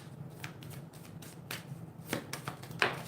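Oracle cards handled and shuffled by hand, a run of soft papery riffles and slaps building to a sharper flurry near the end, close and clear with no speech.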